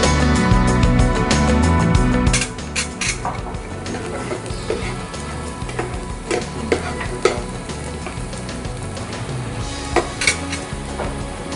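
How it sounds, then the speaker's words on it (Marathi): Onion and green chili sautéing in a pan, a loud close sizzle at first that settles into frying hiss with scattered clinks and scrapes of a spoon against the pan. "आपला मिरची आणि कांदा छान परतलेला आहे"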